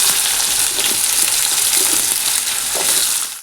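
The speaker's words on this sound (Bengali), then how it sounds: "আলু পটল একসঙ্গে ভাজা করে নেবো আজকে।" Potatoes and pointed gourd fry together in hot oil in a pan, giving a loud, continuous, close sizzle with faint stirring scrapes.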